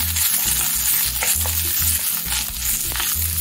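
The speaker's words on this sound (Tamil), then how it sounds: "நல்லா வதக்கி விடணும்" Sliced onions with ginger and green chilies sautéing in a pan, a loud, close, continuous sizzle with rhythmic scraping and stirring knocks throughout.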